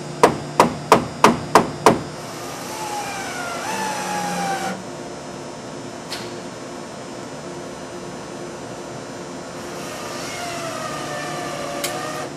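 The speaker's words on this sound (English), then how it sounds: "sometimes you can use a wooden block to tap the new panel into place" Six sharp, evenly spaced knocks ring out as a wooden block taps a snug-fitting car wash wall panel into place, followed by a steady hiss and a few faint squeaks.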